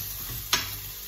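Flour frying in a pan and starting to burn, a faint steady sizzle broken by one quick stirring scrape midway.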